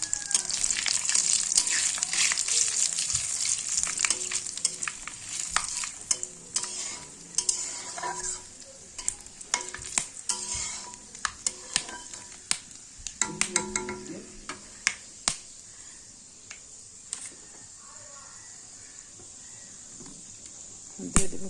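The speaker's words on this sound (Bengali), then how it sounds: "দিয়ে দেবো সম্বার, শুকনো লঙ্কা, গোটা গরম মশলা, গোলমরিচ, সাদা জিরা," Dry red chillies, bay leaves, black pepper, cumin and whole garam masala crackle in hot oil, with a bright steady sizzle, scattered pops and the clatter of a spoon stirring the pan, the hiss easing toward the end.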